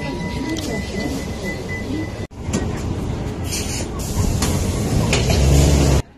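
Z165 sleeper train running on the high-altitude Qinghai-Tibet railway, a steady rumbling ride noise that holds continuously, briefly dips, then swells louder toward the end with some faint voices in the carriage.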